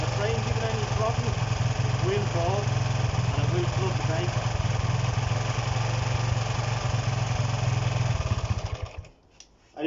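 A Honda CB125 RS motorcycle engine idles steadily with the choke on, a close, even putter that runs continuously before cutting out near the end.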